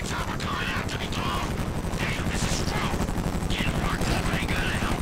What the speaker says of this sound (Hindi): हेलीकॉप्टर आ गया वापस से, इसे हेडशॉट देना भाई